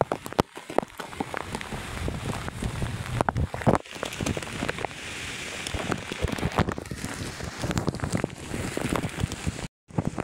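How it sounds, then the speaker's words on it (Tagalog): Heavy rain pours steadily onto an open farm field, a dense continuous hiss of drops with gusts of wind buffeting the microphone and a brief dropout near the end, with no voices. "malakas ang ulan kaya malabo yung camera guys"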